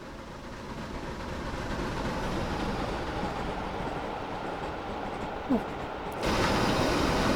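A video-game steam locomotive, an SR/BR Bulleid Light Pacific 4-6-2 in Train Simulator Classic, chugs steadily at a distance with a mechanical rumble, the sound broadening and growing louder near the end.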